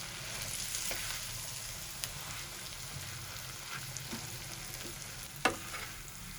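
Spiced potato batter is stirred into hot masala in a pan, a low steady sizzle with soft scraping and one sharp spoon knock near the end, no voices.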